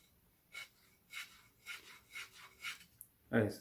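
A CS Warcraft Tanto 13TXL knife spine shaves a piece of wood indoors, making a series of about six short, rhythmic scraping strokes, each a soft rasp, followed by a louder, closer thump at the end.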